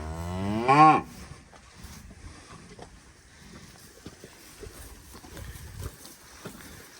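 A single loud dairy cow moo rings out at the start, then gives way to quieter shuffling and low farmyard noise as the herd comes in.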